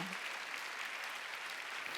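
A church congregation at a Sunday worship service claps together in dense, continuous applause, a steady, even wash of many hands with no clear breaks.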